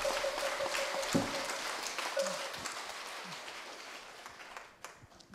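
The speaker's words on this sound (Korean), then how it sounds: "좋은 법문을 해주신 우리 심영 스님께 다시 한번 큰 박수로 예를 올리겠습니다" A temple congregation at Jogyesa claps for a monk after his dharma talk: a dense roar of many hands from a large hall, strong at first and then slowly thinning and fading out over a few seconds.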